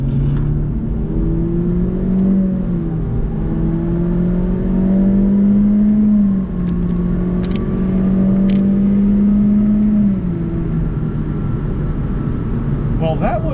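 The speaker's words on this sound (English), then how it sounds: "you really feel like the car's kind of struggling a little bit to get up to speed" A 2022 Honda Civic with a 1.5-litre turbocharged direct-injection four-cylinder and CVT accelerates, a steady droning engine note rising and falling slightly in pitch under road rumble, with a voice speaking over it throughout.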